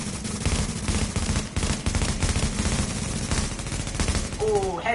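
Dense, continuous gunfire from a first-person shooter video game, with sniper shots among rapid bursts, loud and close throughout, with voices mixed into the battle.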